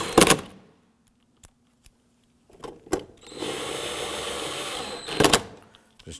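Power driver running screws into the rear door panel of a 2015-2020 Ford F-150: brief close whirring bursts separated by quiet gaps and small clicks, with a longer steady motor buzz near the end.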